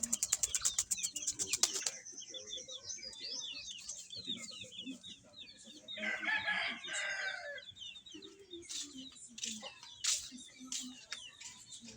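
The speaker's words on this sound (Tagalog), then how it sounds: "May manok." Chickens cluck and a rooster crows, with a burst of rapid squawking at the start and repeated clucks and calls throughout, fairly close.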